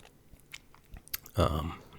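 A Butterfinger candy bar, the crispy peanut-butter kind, is bitten and chewed close to the microphone: a few soft clicks, then a loud crunchy bite followed by steady chewing, with no talk over it.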